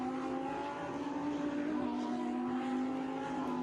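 A rally race car's engine holds a strained, steady high drone as it is fought through a sequence of turns, heard at moderate distance without any breaks.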